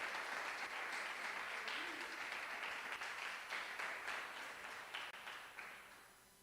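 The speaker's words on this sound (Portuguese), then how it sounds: "Pode bater a palmas para essa palavra, em nome de Jesus?" Congregation clapping during a church service, a broad wash of many hands applauding at moderate distance that slowly fades out toward the end.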